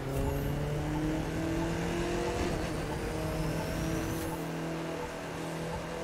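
A car accelerating in The Crew 2 racing game, a loud, steady engine drone with a rising harmonic whine that holds at high revs throughout, close and continuous with no talk.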